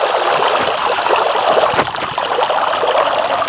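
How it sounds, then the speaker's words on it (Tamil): Water pours out of an old bucket used as a fish trap, a steady close trickle and splash running continuously without pause and with no talking. "வா, அழகாக தண்ணி ஊற்றுறது."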